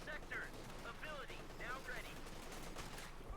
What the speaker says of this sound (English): they're getting absolutely ripped apart here with the machine guns